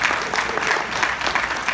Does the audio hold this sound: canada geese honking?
no